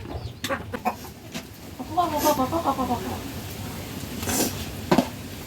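A rooster clucks in a short run of pulsing calls, close by, with people talking and some scattered background clatter around it.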